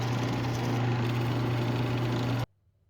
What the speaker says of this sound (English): we're just going to drill the tuner holes right through with a 10 mil really high quality brad point bit